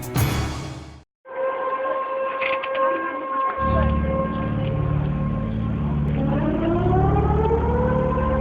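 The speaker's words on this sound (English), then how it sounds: "These are the sounds of a tsunami warning." Tsunami warning sirens wail in a steady, loud tone with harmonic layers and rising pitch sweeps, preceded by a brief burst of broadband noise and a short gap before the sustained siren takes over.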